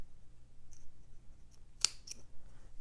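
Sewing snips clip into a fabric corner seam close to the stitch line, giving a couple of sharp, close, crisp snips with a faint lead-in clip, alone in a quiet room.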